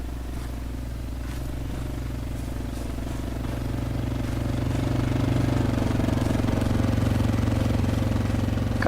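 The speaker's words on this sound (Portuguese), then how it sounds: "Tô escutando uma moto aqui perto." A motorcycle engine in the military video game ArmA 3 runs with a steady droning hum that swells gradually louder, as if the bike is drawing nearer.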